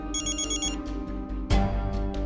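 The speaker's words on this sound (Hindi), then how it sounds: "इसका फिर से फोन आ रहा है, क्या करूं मैं?" A phone rings loud and close with a tonal melodic ringtone repeating in short bursts, then a sudden louder thump-like burst with a low rumble joins near the end.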